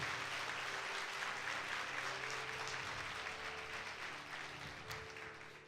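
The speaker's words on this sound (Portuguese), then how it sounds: "por favor, dê um aplauso ao Senhor Jesus Cristo." A congregation at a Sunday church service applauding in a dense, steady wash of clapping that gradually fades toward the end, heard at a low level.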